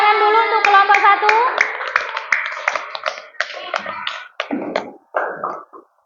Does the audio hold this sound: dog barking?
no